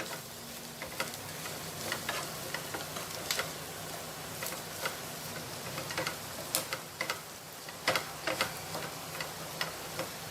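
Chicken frying lightly with onions in a pan, a steady soft sizzle with scattered sharp clicks and scrapes from stirring, fairly faint and close, no voices.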